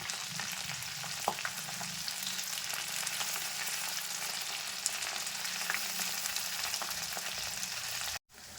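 Leftover rice pakoras sizzle steadily in hot oil as they are slowly turned, a dense continuous frying hiss with a faint scrape or two, then a brief sharp dropout near the end.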